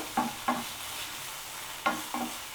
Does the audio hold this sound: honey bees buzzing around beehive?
no